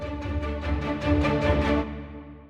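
Orchestral strings play an arrangement of the Moonlight Sonata third movement, cellos alternating notes under rapid repeated notes in the other strings, pulsing evenly, swelling slightly, then fading out.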